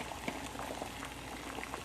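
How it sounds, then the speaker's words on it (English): Water at a rolling boil in a pot on the stove for beef pho broth, a steady close bubbling and popping with small irregular bursts, heard alone without talk. "now here our water is boiling"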